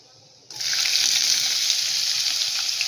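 Chopped onion hits hot oil already crackling with cumin and mustard seeds for a bahava flower vegetable dish, setting off a sudden loud sizzle that holds steady and close after a brief quiet start.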